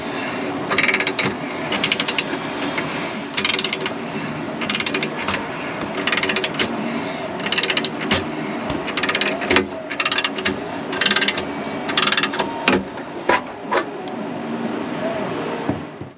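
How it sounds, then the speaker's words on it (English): Ratcheting wrench turning a knockout punch to cut a hole, a series of repeated clicking ratchet bursts in uneven strokes, close and fairly loud, with some speech in the background. "use this ratcheting wrench to"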